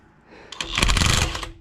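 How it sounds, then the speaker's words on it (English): An impact wrench hammers off the pinion nut of a GM 14 bolt axle in reverse, a close, loud rattling burst of rapid blows lasting about a second after a faint lead-in. "we'll see if the impact wrench will pull it off"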